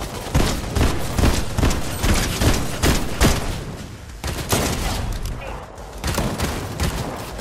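Automatic gunfire in the video game Fortnite sounds as a loud, dense spray of repeated shots in bursts with short gaps, and a player's voice talks over parts of it.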